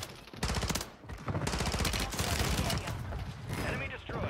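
Rapid bursts of Piri SMG fire in a Warzone 3 match on Rebirth Island, loud and close, in dense sustained strings with brief gaps, voices faintly present underneath.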